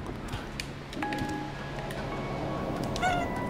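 Orange cat meowing in the video game Stray, a couple of short distinct meows over quiet game ambience.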